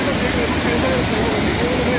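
Bhagsunag Waterfall in McLeod Ganj, swollen by monsoon rain, pours in a continuous dense roar of rushing water, loud and close, with faint voices mixed into the wash.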